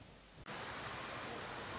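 Heavy rain at an outdoor street protest by student activists in Jember: a dense, even roar of downpour that swells in abruptly after a brief dip, filling the scene with close, steady noise.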